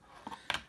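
Scissors snip excess foam from a car stereo fascia plate in two quick, close, soft cuts within a second, with no talk.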